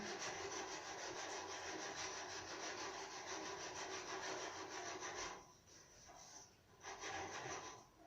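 Steady rasping strokes of sandpaper working a wooden pen blank, close and continuous, briefly pausing twice near the end before resuming.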